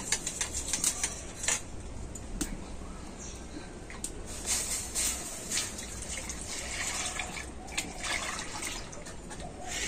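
A milk, cornflour and sugar mixture for a watermelon pudding goes into a wok, making a steady close trickling, liquid pour with light clicks and clatter throughout, no voices.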